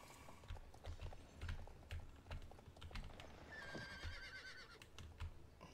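A horse gallops in the video game Star Stable, its hoofbeats a quick, steady clip-clop rhythm running throughout, with a brief bright chime partway through and no voices.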